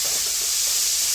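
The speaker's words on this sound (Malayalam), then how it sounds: "ഒപ്പം ഞാൻ തക്കാളി ഇട്ട് കൊടുക്കുന്നുണ്ട് കേട്ടോ" A small tomato dropped into a hot pan gives a loud, continuous, breathy hiss that stays even across a brief moment.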